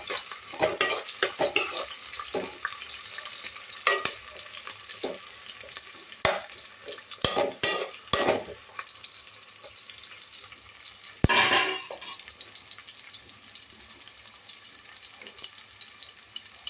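Onions and green chillies frying in a pan for Andhra-style mutton curry, with irregular scraping stirs and bursts of crackle over a low sizzle, close and moderately loud, no talking.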